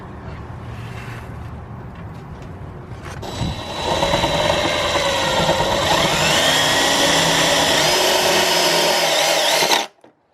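A power drill whines loudly and steadily for several seconds after some quieter handling noise while installing a PA system and siren on a Miata, its pitch wavering slightly before cutting off abruptly.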